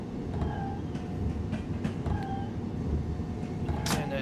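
Train Sim World 2 train pulling into a station, with a steady low rumble of the rolling train, a few short squeals and clicks, and a brief higher whistle-like tone near the end.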